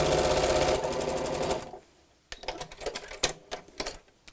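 A sewing machine stitches across the bulky seams of a tote bag made from fat quarters, a loud steady mechanical whir for about a second and a half, then pausing and resuming in short, uneven bursts of needle clatter.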